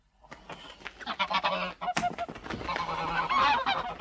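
A big goose caught in a radio drama, honking loudly and repeatedly while its wings flap and it struggles. The calls come in irregular bursts that grow more frantic and dense toward the end.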